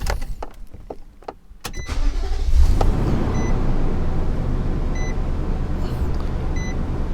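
A truck engine cranks briefly and catches, then settles into a steady, fairly loud idle, with a few faint electronic beeps sounding over the running motor.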